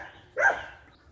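A single dog gives one short bark, mid-distance and moderately loud, against a quiet outdoor background with no talking.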